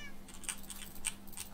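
A cat meows in the Minecraft game on the CubeCraft server, with a few short, faint mews over a steady low game hum.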